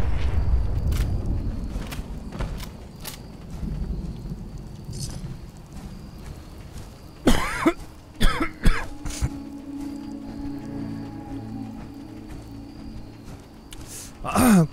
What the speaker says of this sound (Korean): 목이 이렇게 간지럽고 기침이 나지?